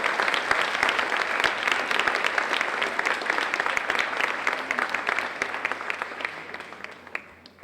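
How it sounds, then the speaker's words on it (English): Steady applause from an audience at a 2017 honor society and awards ceremony, a dense, even wash of many hands clapping that carries on throughout and slowly fades near the end. "And we applaud them for their participation."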